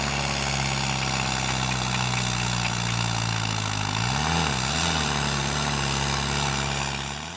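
A New Holland 7500 100 hp tractor engine idling nearby, a loud, steady droning rumble with a brief dip in pitch partway through.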